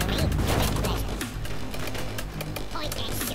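Sniper units firing in the strategy game Battle Realms, a rapid scatter of sharp gunshot cracks layered over a dense battle din, with someone talking over the shooting.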